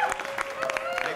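Studio audience clapping fills the clip, a steady burst of applause from a crowd at a comedy show launch, with voices mixed in.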